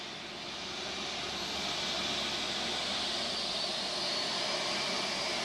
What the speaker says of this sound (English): the pilot tells me to start up the APU. The APU goes off.